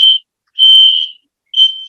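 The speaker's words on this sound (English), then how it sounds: "that's a fire alarm here at the school." A school fire alarm sounds in three loud, shrill electronic bursts, the middle one longest, separated by brief silences.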